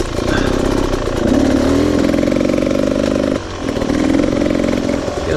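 Enduro motorcycle engine droning steadily while being ridden, a loud, continuous buzzing roar with shifting pitch as the throttle changes, a brief dip in the middle before climbing back up.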